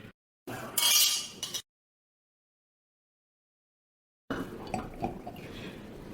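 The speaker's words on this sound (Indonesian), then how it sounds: "ayo, kita bersulang baik." Glasses clinking together in a celebratory wedding toast, a brief bright chime followed by silence and then quieter rustling and clatter.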